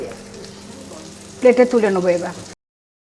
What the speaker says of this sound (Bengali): দুপাশই ভালো করে ভাজা হয়ে গেছে